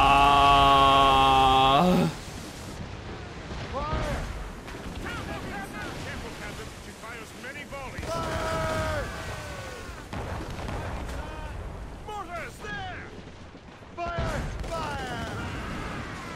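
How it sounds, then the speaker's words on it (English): Mortar fire from a ship in a naval video game booms repeatedly while vessels are sunk, with deep blasts and rumbling under steady talking and game voices. "Make good use of your own mortars, Shay"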